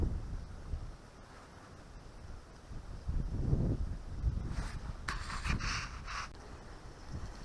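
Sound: wind blowing

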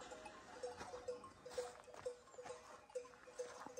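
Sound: sheep flock with bells

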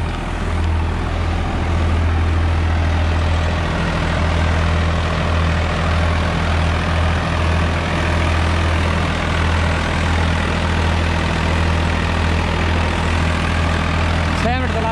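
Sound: tractor engine running

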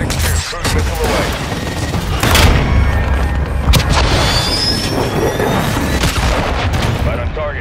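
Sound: cruise missile strike explosion in Call of Duty video game

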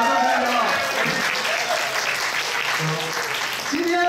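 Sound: applause

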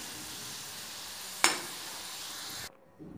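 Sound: bread gulab jamun frying in oil

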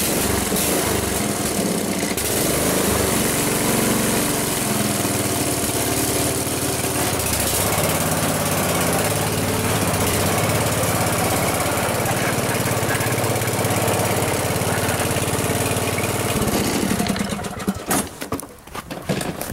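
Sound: small engine started and idling

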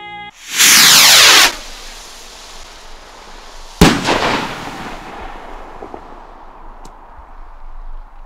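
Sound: firework set off in back garden

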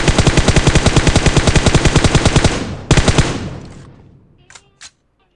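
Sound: gunfire from the video game PUBG Mobile

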